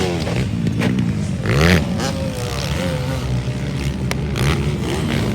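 An enduro motorcycle races in a local final heat, its engine revving hard with rising, whining surges over constant engine drone, and faint voices in the background.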